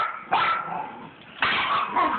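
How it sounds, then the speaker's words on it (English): Two loud, shrill, strained barks from a dog, each a drawn-out screaming yelp aimed at a toy hamster, close up with no talking. "It's like a scream bark."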